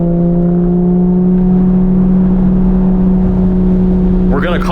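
A 2018 Porsche 911 GT3 (991.2) on a race track drones with a loud, steady engine note heard from inside the cabin, holding a constant pitch throughout, while a voice speaks briefly near the end.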